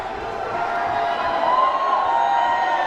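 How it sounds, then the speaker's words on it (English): Crowd at a wrestling tag-team championship match, cheering and calling out together for a wrestler as one steady, loud wash of voices without a break. "Look at this, the crowd calling for Durag."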